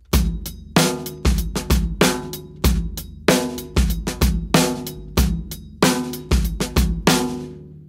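Acoustic drum kit playing a sparser variation of a song's groove with one fewer bass drum hit, sharp cymbal-washed strikes repeating in a steady syncopated rhythm, close and loud with no talking.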